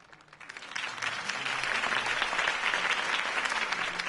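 A crowd applauds Harvey Dent's campaign speech in Batman: The Telltale Series, rising quickly from quiet into dense, sustained clapping that stays loud and even.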